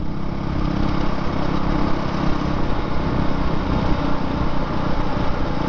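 Steady engine drone from a 2019 Honda CRF450L dual-sport motorcycle being ridden toward an OHV park, a continuous close rumble with no break across the whole stretch and no talk over it.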